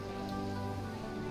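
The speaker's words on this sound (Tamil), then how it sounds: "மழை பெஞ்சிட்டு இருக்கு" Rain falling at Murudeshwar temple by the sea, a steady even hiss of drops on hard surfaces mixed with a constant low background drone, continuous and moderately loud, without voices.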